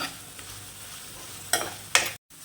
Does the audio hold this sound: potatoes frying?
yes